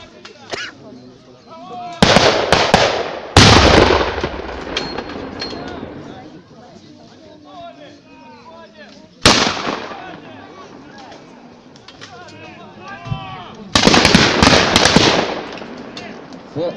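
Loud explosive booms and artillery blasts from a battle reenactment burst out at intervals, some rolling and sustained, with distant voices and crowd noise between them.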